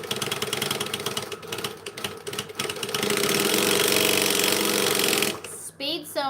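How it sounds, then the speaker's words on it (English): A sewing machine runs fast along a straight seam, a dense, steady mechanical whir that holds and then cuts off abruptly near the end. "Speed sewing on the straight bits where nobody's even gonna see it anyway is a good practice."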